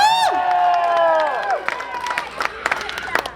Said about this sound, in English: Clap, cheer, shout for your favorite.